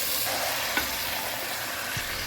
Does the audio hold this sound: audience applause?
no